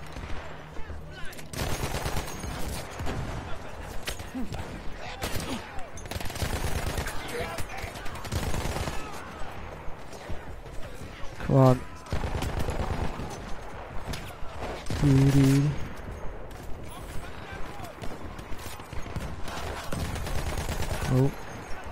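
Battlefield 1 combat with trench gun fire: dense bursts of rapid gunshots and explosions throughout, loud and close, with a player talking over them.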